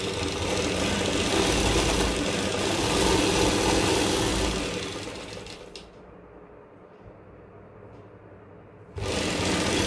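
A sewing machine runs a long continuous stitching burst on a palazzo seam, loud and steady, then slows to a quieter hum before stopping briefly and restarting near the end.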